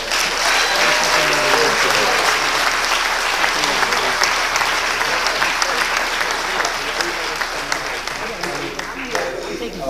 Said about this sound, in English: Let us give Dr. West another round of applause.